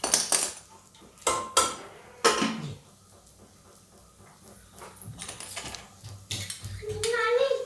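A spoon stirring spinach and pigeon-pea dal in a pot, with sharp scraping clinks against the metal early on and then softer rhythmic stirring. A voice talks quietly under it.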